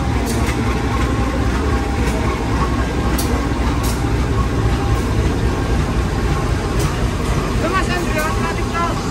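A passenger train with its locomotive at a station gives off a loud, steady rumbling drone with faint clanks and hiss on top, while a voice talks under the noise.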